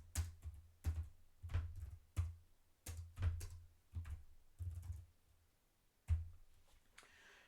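Code being typed on a computer keyboard, in close, rapid bursts of key clicks with brief pauses between them, alone with no talking.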